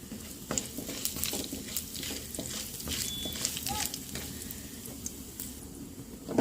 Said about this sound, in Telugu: పోసి వేయించుకుందాం అలానే కొంచెం జీలకర్ర కూడా వేసుకొని వేయించుకుందాం